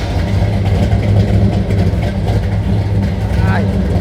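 A 1962 Chevrolet Impala SS convertible with a 409 V8 and Flowmaster Super 40 mufflers gives a loud, steady low engine and exhaust rumble, close and continuous, with speech over it.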